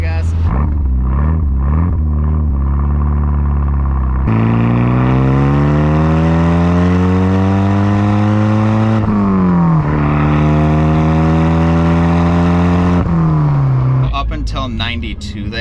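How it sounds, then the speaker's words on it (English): A Mitsubishi Eclipse GSX engine and exhaust rumble loudly up close, revving repeatedly with rising, falling pitch sweeps between brief drops back to idle. "It has a nice little rumble to it too."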